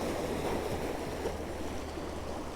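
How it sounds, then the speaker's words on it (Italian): Lake water laps and washes steadily while a ferry departs in the distance, a broad continuous rush with some wind buffeting close to the microphone. "Sta partendo un traghetto là in fondo, sentite il rumore del lago, che bello"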